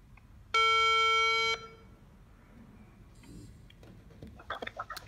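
A phone rings with an incoming call placed from a kids' waterproof 3G GPS watch: one steady electronic ringtone burst lasting about a second, fairly loud and close, then quiet room tone with a few faint clicks.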